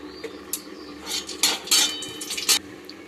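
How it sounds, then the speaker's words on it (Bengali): A metal kadai is set on the stove for tomato chutney, then two chillies and a little oil go in, with sharp clanks and clatters of metal cookware in quick bursts. "আমি আরেকটা কড়া চাপিয়ে দিচ্ছি, এতে একটু টমেটোর চাটনি বানাবো।"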